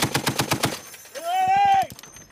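Rapid burst of automatic gunfire during an armored assault with US Marines and Romanian Army soldiers, a fast rhythmic string of loud reports at the start, followed by a shouted voice.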